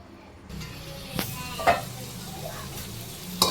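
Vegetables for a vegetable biryani fry in a hot pan, a steady sizzle with occasional stirring scrapes and clinks, close and moderately loud, with no one talking.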